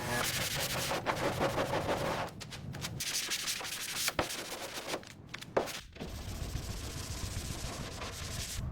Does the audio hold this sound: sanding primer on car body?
yes